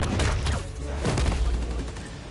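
Rapid bursts of gunfire ring out in Marvel's Spider-Man: Miles Morales on PS4, dense and continuous with booming low thuds, loud and close, with no talk over it.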